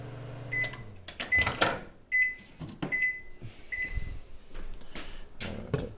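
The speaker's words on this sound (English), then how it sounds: "And then we'll quickly do the microwave here." A kitchen microwave oven hums low for about a second, then gives a series of short electronic beeps between clunks and handling noises; no one speaks.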